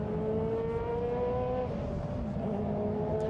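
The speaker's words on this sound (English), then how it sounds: "Going past the 911 GT1" A Porsche 911 GT1 race car engine drones steadily at close range, its pitch sliding slightly as it passes, with a constant loud mechanical roar throughout.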